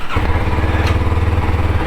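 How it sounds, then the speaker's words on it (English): A Kawasaki KLX230 supermoto and an XR150 enduro motorcycle idle nearby, giving a loud, steady, pulsing single-cylinder chug with a quick throttle blip. "we're gonna ride the Supermoto and the Enduro"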